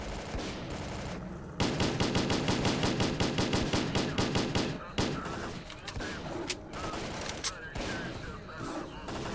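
Rapid automatic gunfire from STALKER Clear Sky rattles in long, loud bursts, with scattered shots afterwards and some voices in the mix.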